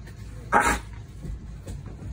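A single short, sharp sneeze from a dog, heard up close over quiet noise aboard a puppy bus, followed by faint soft sounds.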